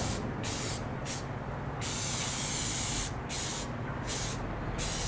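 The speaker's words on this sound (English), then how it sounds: "Right now we're just going to be putting the metal etch primer on it." Aerosol can spraying metal etch primer onto a 1949 Harley-Davidson WL flathead motorcycle frame, several close, loud hissing bursts of varying length separated by brief pauses.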